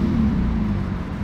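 A car engine runs with a steady, low, close rumble that holds even throughout, with no voices over it.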